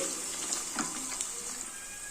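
Onion and red chillies fry in a pan with a soft, continuous sizzle. A few light stirring knocks sound through it, faint and close.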